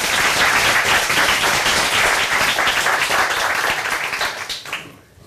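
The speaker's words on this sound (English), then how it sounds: "Big round of applause, ladies and gentlemen." Audience applause at a Falling Walls 2015 conference talk, loud sustained clapping from a packed hall that fades out over the last second.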